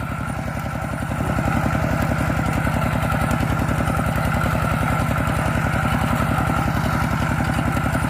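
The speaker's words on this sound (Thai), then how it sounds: "สำหรับรถไถหน้าเดินตามบ้านเฮานี่" A small single-cylinder walk-behind tractor engine of 9.5 to 11 horsepower chugs steadily at idle, a rapid even thumping that stays loud and close throughout, with no voices.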